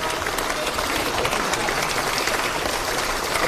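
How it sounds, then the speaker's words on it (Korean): A short burst of full, dense clapping from party lawmakers gathered at a caucus meeting, steady and close, filling the whole moment. "네, 박수 한 번, 예."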